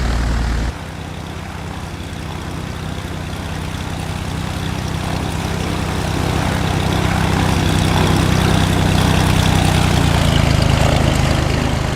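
A propeller airplane engine in the game Microsoft Flight Simulator X gives a loud, continuous droning roar that shifts after a brief opening burst and then slowly swells and holds steady, with no voices.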